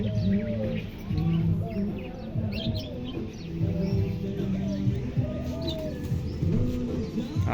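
Pigeons coo in low, repeated rounded calls at close range while quails chirp higher in short bursts, the birds kept in coops at a house with a garden.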